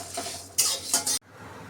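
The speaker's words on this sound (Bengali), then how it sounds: "দিয়ে আমি শুকনো খোলার উপরে এগুলো একটু ভেজে নেব।" Coriander and cumin seeds dry-roasted in a pan, with a few short scraping stirs and light rattling of the seeds before sudden quiet.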